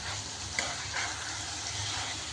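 Chilli powder frying in hot oil for a Tamil chicken curry gives a steady, close, dense sizzle with a couple of faint spoon stirs, and no one speaks.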